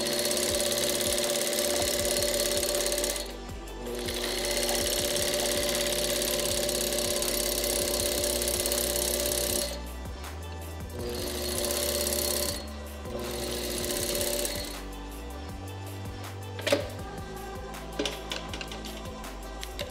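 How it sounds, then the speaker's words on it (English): A sewing machine stitches along the inside brim of a trucker hat in long steady whirring runs, broken by short pauses and a few lighter intermittent bursts near the end. "pull this really tight and sew along the inside of the brim."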